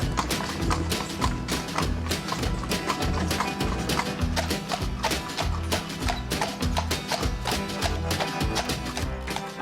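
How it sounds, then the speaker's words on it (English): Horse hooves clip-clop in a steady rhythm on pavement as the horse pulls a carriage close by, with rattling and rolling noise from the carriage. "just the horse pulling a wagon"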